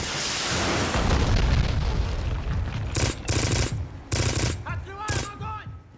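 Gunfire and heavy explosions from the shooter game Black at a dockyard, a rumbling blast followed by several loud bursts of automatic fire with short gaps between them.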